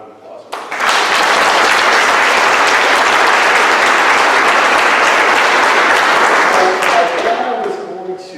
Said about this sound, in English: So I'll have a round of applause.